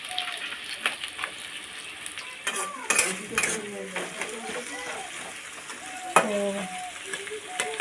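Chopped onion hits hot mustard oil in a pan while a chicken dish cooks, giving a steady sizzle with clinks and stirring scrapes. Light kitchen knocks sound close by, and there is some background chatter.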